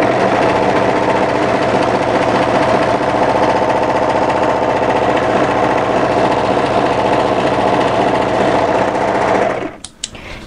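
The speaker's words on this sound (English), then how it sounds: "continue overlocking." An overlocker runs steadily, sewing a seam in 200-weight merino blend knit fabric, a continuous close mechanical whir with a rapid stitching rhythm that holds for about nine seconds, then stops abruptly with a few small clicks.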